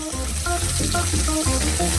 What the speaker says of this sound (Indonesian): Sekarang aku perlu menggoreng daging ini.